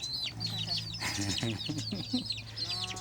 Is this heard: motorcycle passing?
no